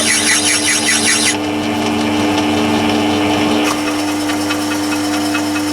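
A Myford ML7 lathe is screw-cutting under power with the half nut engaged, giving a steady mechanical whir with a constant motor hum. A harsher, brighter rattle at the start drops away, then a lighter clatter returns later.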